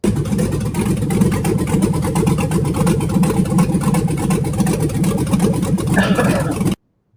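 A truck engine fitted with a Truck Plus camshaft revs hard in a Tahoe with a turbo setup, a loud, choppy idle and throttle roar that holds steady for several seconds before cutting off abruptly.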